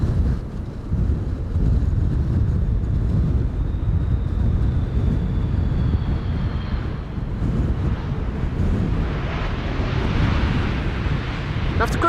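An Airbus A330-300 arriving at Amsterdam Schiphol on a windy day, a steady broadband engine roar mixed with heavy wind buffeting on the microphone, continuous and fairly loud throughout.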